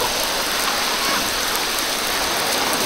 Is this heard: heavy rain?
yes